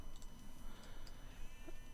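Sheep bleat in Age of Empires 2 Definitive Edition as the flock is sent to the town centre, a short bleating call over continuous game ambience with faint high ticks.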